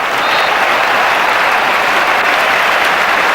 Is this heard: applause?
yes